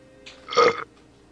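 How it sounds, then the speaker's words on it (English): A single short, soft burp, close by, rising and fading within about a third of a second over a faint background hum. "That was the weakest burp I have ever heard."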